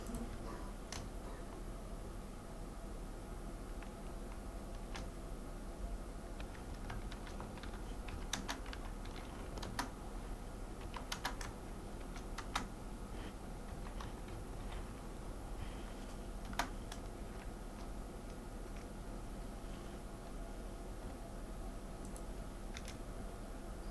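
Sparse, faint keystrokes on a computer keyboard as data is entered into HR management software, with irregular light clicks over a quiet room hum and no talking.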